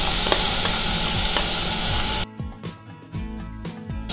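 Cucumber peel dropped into hot ghee in a pan gives a loud, dense, spattering sizzle that suddenly drops to quieter, patchy crackling with scattered stirring clicks.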